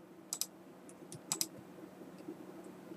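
A few light, quick computer mouse clicks while working in AutoCAD 2021, faint and close, in small pairs against a quiet room hum.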